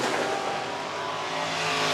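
Stock cars racing at Worthing Speedway, a dense, loud roar of engines and tires blending into a continuous wash of noise from close by, with no audible talk.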